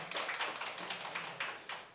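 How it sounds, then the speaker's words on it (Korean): Scattered hand clapping from a small audience at a Korean rural community talk show, a quiet patter of claps repeating in soft bursts across a couple of seconds. "박수 부탁드리겠습니다"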